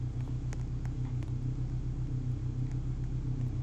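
Steady low car engine rumble in Roblox Brookhaven, a constant looping drone held at even volume throughout, no talking.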